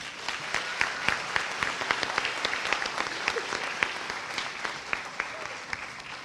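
Sustained applause from a graduation audience at a Park Avenue Elementary School 5th grade moving-up ceremony, dense steady clapping at moderate distance with occasional sharper claps standing out, continuing for the whole stretch.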